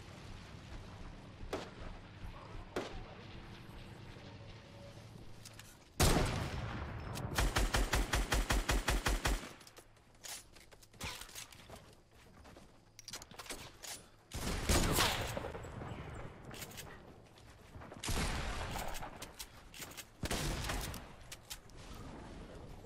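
Rapid bursts of gunfire from a zombie-shooting video game, loud volleys and quick rattling runs broken by short quieter gaps, with no talking.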